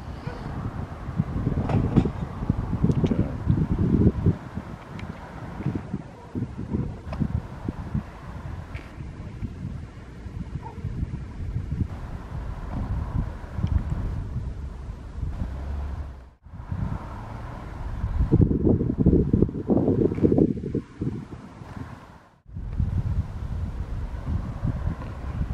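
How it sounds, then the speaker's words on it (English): Strong wind blows straight into the microphone outdoors at sunset on the Portuguese coast, a rough, rumbling buffeting that surges and eases in gusts over nearly half a minute, with brief lulls. "sorry, it's very windy."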